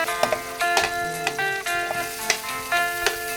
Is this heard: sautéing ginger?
yes